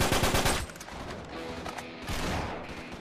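Gunfire from an Uncharted 3 co-op match, with repeated loud blasts packed close together in the opening half-second, then a denser clatter of game noise and shots through the rest.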